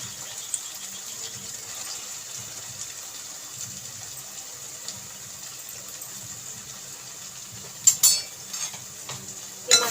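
Masala paste frying in oil with sautéed onions and green chilies, a quiet low hiss with faint stirring, then a few louder bursts of scraping and splattering near the end, no speech.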